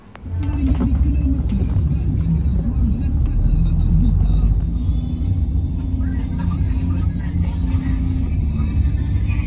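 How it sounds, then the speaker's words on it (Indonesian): A bus pulls away from the terminal heading for Malacca, heard from inside: steady loud engine rumble and road noise from start to finish, with cabin rattles. "Jam 3 teng, bus mulai bergerak meninggalkan TBS menuju ke Malaka."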